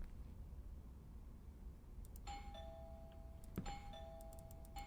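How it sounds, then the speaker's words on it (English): A video game doorbell chimes twice in a two-note ding-dong pattern, with the second ring quickly following the first, clear over a quiet hissy background, no voices. "I should just ring the doorbell, see if he answers."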